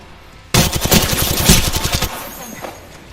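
Loud, close automatic gunfire erupts in a shooter video game, a rapid rattling burst of evenly spaced shots lasting about a second and a half before tapering into a faint tail and scattered echoes.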